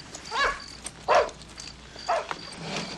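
A dog in a suburban front yard gives three separate barks with whiny, whimpering edges, moderately close, with faint background noise and no talk.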